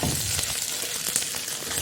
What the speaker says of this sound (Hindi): तो यहाँ पे मैं छौंक दे रही हूँ दाल को।